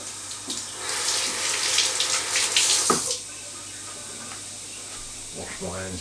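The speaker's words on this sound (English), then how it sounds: "Wash my hands again." Water from a tap runs into a sink for about three seconds as hands are washed, a steady close hiss and splash that cuts off abruptly, followed by quiet with faint handling sounds.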